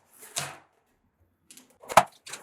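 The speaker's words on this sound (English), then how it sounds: "Just gotta cut the tape at the top here" Packing tape on the box of a hand-powered tobacco shredder is sliced open in a few short, sharp scraping strokes separated by quiet pauses, close and fairly faint.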